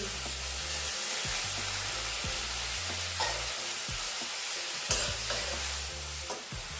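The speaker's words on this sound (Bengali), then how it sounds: "পেঁয়াজটা 2 মিনিট ভেজে নিয়েছি, এবার ওতে দিয়ে দেবো টমেটো কুচি।" Chopped onion and tomato frying in a pan for a capsicum chicken curry, a steady soft sizzle with repeated scrapes and knocks of stirring, close and fairly quiet, with no talk.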